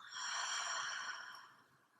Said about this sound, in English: Take a nice big inhale in through your nose. And an open mouth exhale.